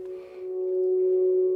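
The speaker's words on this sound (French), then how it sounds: "Oui c'est ça, c'est une reverb très longue" A very long reverb tail from music production software lingers as a sustained, ringing tone that holds steadily and slowly blooms, quiet and smooth with no other sounds.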